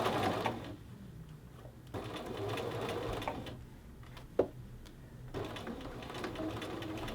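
A sewing machine stitches a men's shirt collar band onto the shirt in steady, close bursts of motor whir, stopping and restarting several times, with one sharp click midway.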